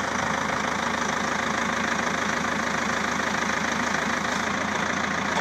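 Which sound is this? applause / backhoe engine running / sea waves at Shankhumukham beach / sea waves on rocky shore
backhoe engine running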